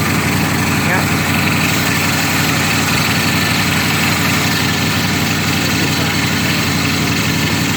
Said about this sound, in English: We got your truck going.